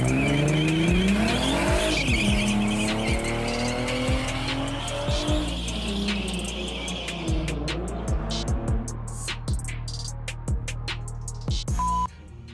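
A Mercedes C32 AMG driven hard on a race track, its engine note rising and falling through gear changes as tires squeal and skid through corners, sustained and close.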